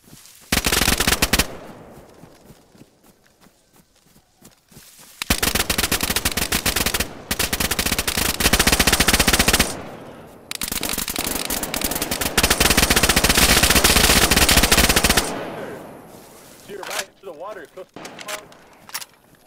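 Loud bursts of automatic gunfire ring out in the survival game Rust, several long sustained volleys separated by short pauses, with people talking in between.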